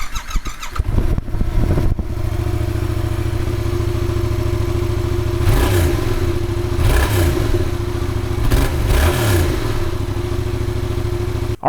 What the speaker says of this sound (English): let's get a sound clip of the stock exhaust system to see what we're working with